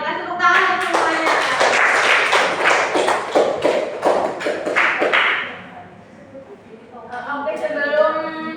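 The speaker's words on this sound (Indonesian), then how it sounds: "terima kasih tepuk tangan untuk semuanya" A class of students claps hands together during a micro-teaching guidance session, a burst of dense, close clapping lasting several seconds before fading, followed by a voice speaking.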